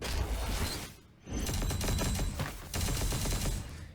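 Sustained automatic gunfire from the video game Punishing Gray Raven, a dense, loud fusillade of rapid shots with a brief pause near one second, then continuing bursts, with no talk.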